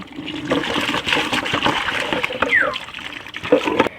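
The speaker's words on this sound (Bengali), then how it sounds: "আচ্ছা আগে আমি বালতিতে জল ধরে নেব" Water from a tap runs into a bucket with a steady splashing gush, close and moderately loud, its tone shifting slightly as the bucket fills, with a voice faintly present.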